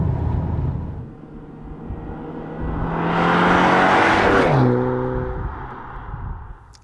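Cabin noise inside a BMW X2 M35i cruising at 160 km/h: steady road and wind roar swelling to a broad rushing peak, with a tonal engine drone shifting pitch near the end.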